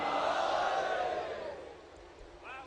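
A crowd at a religious poetry gathering in Lucknow shouts the Naara-e-Haidari slogan in one loud, sustained collective roar that fades toward the end as another voice begins.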